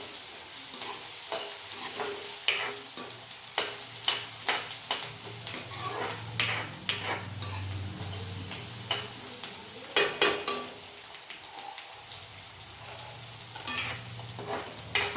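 Onions and green chillies fry in a pan and are stirred over and over, giving a steady low sizzle with frequent scraping clacks from a spoon, close up and with no voices.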